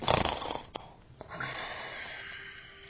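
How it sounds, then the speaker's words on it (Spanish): A single snore, a rough nasal breath in and a softer wheezy breath out, quiet and close, with faint background noise. "Si te acercas a la pantalla es posible que hasta le escuches roncar."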